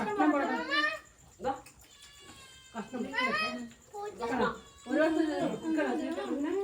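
A cat meows repeatedly in drawn-out, wavering cries, close and loud, with short pauses between calls.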